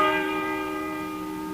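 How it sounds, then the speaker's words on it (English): A church bell rings out in a single sustained stroke, its rich overtones humming and slowly fading after the opening strike, fairly loud and alone with no talk. "Listen to that bell."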